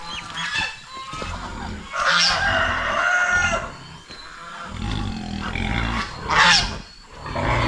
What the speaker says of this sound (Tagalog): Yung aming inahin, oh,